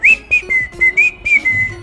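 A girl whistles a short, bright tune in several quick bursts as she walks off, the notes fairly close and clear over a faint low background.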